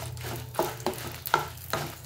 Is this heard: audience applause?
no